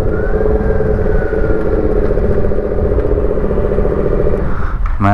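Yamaha MT-07 motorcycle fitted with an SC Project full exhaust, a loud steady engine drone with rough clattering exhaust note running continuously up close, ending in a brief burst of buffeting.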